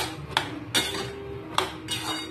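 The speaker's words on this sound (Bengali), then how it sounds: "নেড়ে চেড়ে অনেকক্ষণ ধরে নেড়ে চেড়ে একটু কষিয়ে নিতে হবে।" A spatula clinks and scrapes against a pan while spiced chickpea dal with a little turmeric is stirred and fried, giving four sharp metallic knocks spaced over a low, steady background hum.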